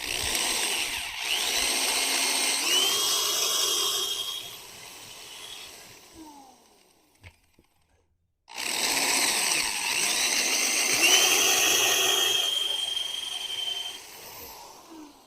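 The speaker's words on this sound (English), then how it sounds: "sure is different making cuts like this on green wood, isn't it?" A power tool cuts into green wood in two long passes, a loud whining buzz that rises and shifts in pitch, broken by a short near-silent pause with a few small knocks between.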